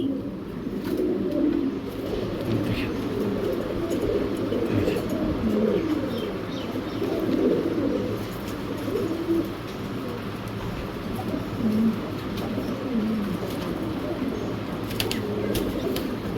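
Imported fancy pigeons, including young birds, cooing repeatedly at a loft with soft low calls overlapping continuously, moderately close, mixed with faint rustling and wing movement.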